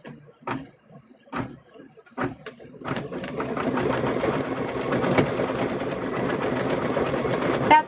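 After a few soft knocks and handling sounds, a sewing machine starts up and stitches continuously, close and steady, on fabric for a stuffed bear.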